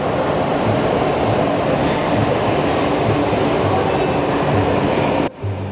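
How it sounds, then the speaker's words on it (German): Constant rumbling roar of a Joetsu Shinkansen train with rail noise at Ueno Station, steady throughout before cutting off abruptly near the end. "An Gleis 19 warten wir nun auf unseren Joetsu Shinkansen,"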